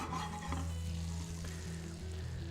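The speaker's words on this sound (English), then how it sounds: "to that I'm adding some butter and some oil. And we want to get those nice and sizzling." Butter and oil heating in a hot frying pan, a faint steady sizzle under a low electric hum, quiet and continuous.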